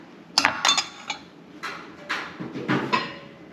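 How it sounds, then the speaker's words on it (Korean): A large pot lid is set onto a kitchen lid rack, giving a few close metallic clinks and clatters in quick succession, then lighter taps and rattles as it settles. "큰 뚜껑은 이쪽에다가 이렇게 놓으면 딱 좋습니다"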